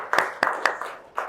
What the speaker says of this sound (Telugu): సార్కి వెల్కమ్ క్లాప్స్